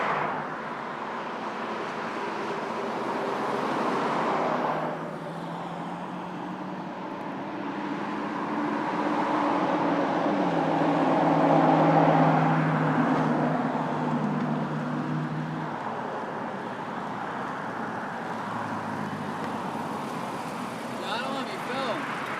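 Vehicles pass along a three-lane highway in Florida, a broad steady roar that swells and fades as cars and trucks go by nearby, with people talking over it.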